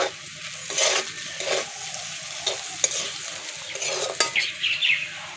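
Potatoes fry with chilli powder, pepper powder and green chillies in a pan under a steady soft sizzle, while a spatula scrapes and clinks against the metal in irregular strokes. No one speaks.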